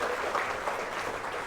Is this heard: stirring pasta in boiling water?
no